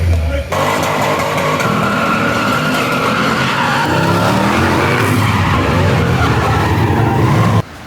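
A Corvette skids through donuts with tires squealing continuously over a loud, steady engine roar, the screech sustained for several seconds before cutting off abruptly; a voice talks underneath.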